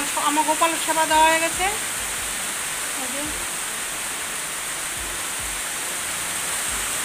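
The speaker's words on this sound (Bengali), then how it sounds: "আপনারা তো এখনও শুনতে পাচ্ছেন আওয়াজ বৃষ্টি।" Heavy, nonstop rain pours as a steady, broad hiss through the whole stretch, with someone speaking briefly over it at the start.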